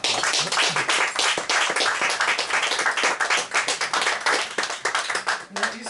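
Dense, lively applause after a poetry reading, close and loud, with many overlapping claps running throughout and some voices mixed in beneath.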